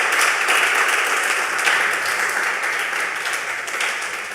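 A church audience claps for a youth group with a steady wash of applause that stays fairly loud throughout, fading a little toward the end.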